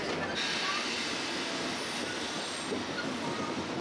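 A train rolls along a flower-lined valley railway in Toyama and Gunma, Japan, making a steady, even rumble of wheels and cars that holds at the same loudness from start to finish, with no talk over it.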